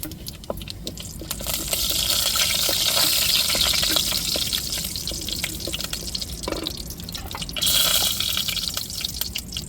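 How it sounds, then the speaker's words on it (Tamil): Cinnamon and whole spices fry in hot oil in a pan for a goat spleen fry, giving a steady, loud sizzling hiss with small crackles and pops throughout. "இப்போ பட்டை வகையை சேர்த்துக்கிறோம் எண்ணெய் சூடேறிட்டு நல்லா பொரியட்டும்"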